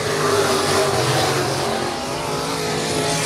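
Sport Modified race cars at Raceway Park roar back up to speed on a green-flag restart, a loud, dense, continuous engine drone from the pack that holds steady throughout.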